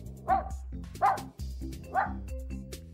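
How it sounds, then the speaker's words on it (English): Pet dog Spark gives three distinct barks at roughly even intervals, close and loud, with softer yips and whimpery sounds between them over a low background hum. "This is my dog Spark."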